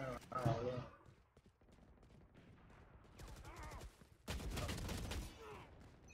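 Gunfire in the shooter game Valorant comes in rapid bursts of shots. A sharp volley opens, quieter scattered fire follows, then a loud sustained burst of shooting closes it.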